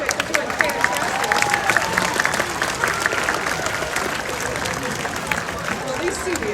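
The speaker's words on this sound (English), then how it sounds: "Let's give them a round of applause really quick." A zoo crowd at a harbor seal and sea lion show claps and cheers, lively applause with scattered whoops and background chatter at moderate distance.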